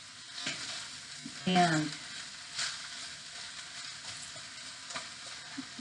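Vegetables for soup sauté in a pot with no liquid, giving a soft, steady sizzle with a brief stirring scrape. A voice speaks briefly.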